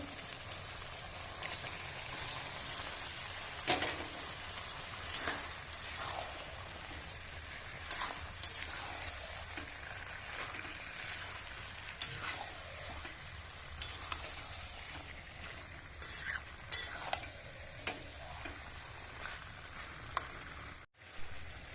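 Duck meat fries in an oily garlic spice paste, a soft continuous sizzle broken by intermittent scraping and clattering strokes as it is stirred. Fairly quiet, with no talking.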